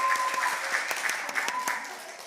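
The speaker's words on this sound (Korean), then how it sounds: "우리 크게 박수로 환영하시겠습니다." A church congregation at a Sunday worship service claps to welcome a member visiting for a four-month internship, a steady indoor round of applause with a few voices mixed in.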